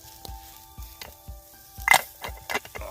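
Steak sizzles in melted butter over a campsite cook setup, a soft crackling fry broken by a few brief stirring scrapes and louder bursts, close and fairly quiet, with no talk.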